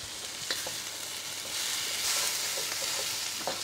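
Continuous sizzling of carrots and other vegetables stir-frying in a hot pan as the heat subsides a little, with occasional clinks and scrapes of stirring, no voices.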